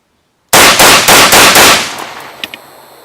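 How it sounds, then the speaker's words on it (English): A rifle fires about five rapid, loud shots in quick succession while a magazine is emptied, the reports blurring together into a booming burst that then fades, followed by a couple of faint tinkling brass hits. "We're gonna go ahead and dump this mag real quick"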